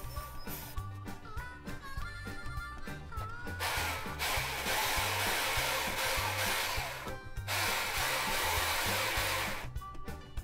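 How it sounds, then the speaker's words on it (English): A jigsaw cuts a shape through wood for a homemade folding kids chair, with two sustained, loud buzzing cutting bursts over a background of music. "I have a saw for jigsaw. It's designed for shape cutting. I will use this saw."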